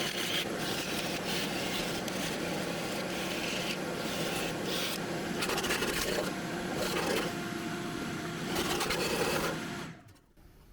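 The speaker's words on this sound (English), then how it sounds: "I'm going to come through with a wire wheel now and finish it up." A wire wheel grinds steadily against an engine part, scraping leftover gasket material off a Ford Falcon's intake surface in a continuous, raspy whir that stops abruptly near the end.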